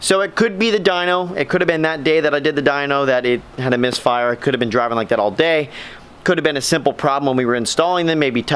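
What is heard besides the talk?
None of the usual background noises is heard.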